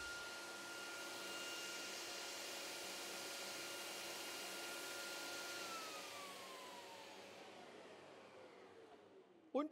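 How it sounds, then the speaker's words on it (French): A Festool TKS 80 table saw with SawStop-AIM technology runs with a steady, loud motor whine and blade hum, then winds down in pitch toward the end, finishing with a short knock. "j'appuie sur le bouton vert et la machine démarre"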